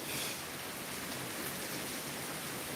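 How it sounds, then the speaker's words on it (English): Heavy rain pours down outdoors in a steady, dense wash of noise, constant and moderately loud with no voices, ending with a brief knock. "it is raining cats and dogs"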